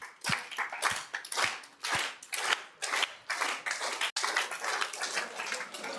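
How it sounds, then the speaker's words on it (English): A crowd claps together in a steady, even rhythm at about 120 beats per minute, loud and close, with no talking. "You guys all just start clapping until you get to 120"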